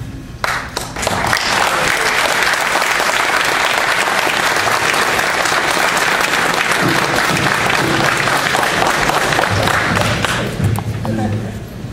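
Audience at a township public hearing on an asphalt plant bursts into loud, sustained applause, a dense roar of clapping from a crowd in a meeting room that lasts around ten seconds before tapering off.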